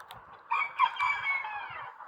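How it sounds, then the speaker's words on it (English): A small show chicken crows once in a strained, wavering call lasting over a second, near and moderately loud, with soft low clucks around it. "You know those little chickens, the showbirds, right there."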